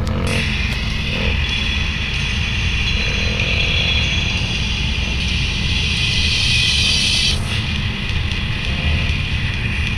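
Inside a moving car, a steady low road and engine rumble with broadband hiss runs unbroken for ten seconds, with no talking.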